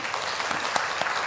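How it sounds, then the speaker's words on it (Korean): Church congregation applauding after a Sunday service, a brief steady patter of many hands clapping at moderate level with no talk. "우리 박수 한번 해주시죠"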